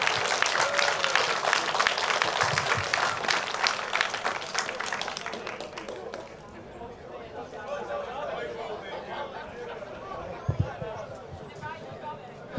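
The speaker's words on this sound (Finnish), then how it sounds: "Annetaan tässä vaiheessa raikuvat aplodit." Loud, dense applause from an audience at a hot dog eating world championship, clapping for the winner, fading after about six seconds into crowd murmur and chatter.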